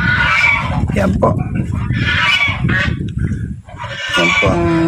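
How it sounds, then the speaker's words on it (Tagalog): Geese on a farm give bursts of honking, with faint fowl calls mixed in and a person talking briefly between the calls. "Ayan po ang gansa."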